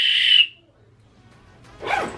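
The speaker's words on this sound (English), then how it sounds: "Here's a whistle." Lacrosse whistle blown once: a short, shrill, fairly loud blast at the start, then quiet and a brief rustle.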